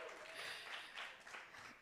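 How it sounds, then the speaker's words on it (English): A crowd applauds, a dense wash of clapping hands at moderate distance, sustained and fairly even throughout. "So clap for yourself."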